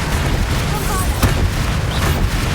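Bombarda blasting spell going off in Hogwarts Legacy's Dark Arts Arena, a dense booming burst over steady rumbling game noise, with a short sharp crack near the middle and no break in the din.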